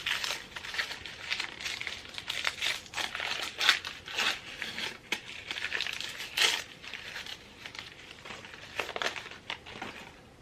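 Plastic wrapping on a gift package crinkles and crackles in bursts as it is torn open, a close, continuous rustle with sharper crunches scattered throughout and no talking.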